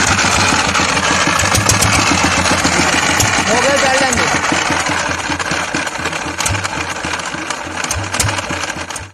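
A water pump engine runs at a farm in a Punjab village, a steady loud mechanical chugging with a rapid regular beat throughout, fading a little toward the end, with faint voices in the background.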